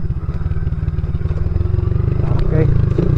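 A motorcycle engine putters and chugs loudly with a rapid, pulsing low throb as it passes close by on a rural village trail near Miacton, Hamtic, while people talk over the engine.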